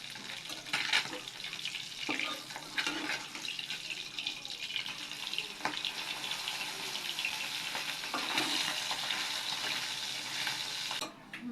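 Pabda fish fry in a pan with a dense, steady sizzle and crackle, close and moderately loud, with scattered scrapes and clatters of the utensil over the constant hiss.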